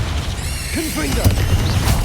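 A Confringo blasting curse bursts in Hogwarts Legacy, a sharp crashing explosion with a whooshing magical tail over a dense rumbling fight, while a voice talks alongside.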